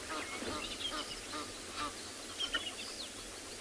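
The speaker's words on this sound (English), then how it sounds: "We heard another sound of other Egyptian geese" Egyptian geese honking at a distance during a morning safari in South Africa, several brief calls scattered over steady background noise.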